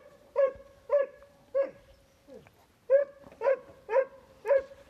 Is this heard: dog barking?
yes